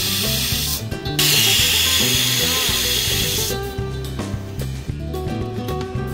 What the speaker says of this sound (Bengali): 2টো সিটি দিয়ে নিলাম কুকারে।